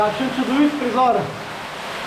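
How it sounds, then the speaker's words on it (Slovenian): A steady, broad rush of falling water from an underground waterfall in Belojača cave in Štajerska, Slovenia, fills the space evenly while a voice speaks briefly over it. "Jamski slap v jami Belojača."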